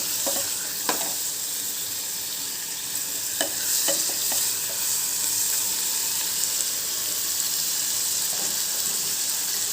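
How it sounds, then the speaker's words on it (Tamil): Tomatoes sauté with onion in a pan for seru keerai dal, giving a steady close sizzle with occasional scraping stirs and clinks of a spoon against the pan. "தக்காளி நல்லா வதங்கணும்."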